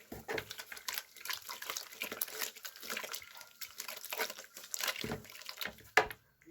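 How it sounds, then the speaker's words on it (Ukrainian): Water is poured into primer and quickly stirred, making irregular wet sloshing and splashing in a bucket, close by, with one sharper knock near the end. "Додаю трохи грунтівки та додаю воду та швиденько замішую."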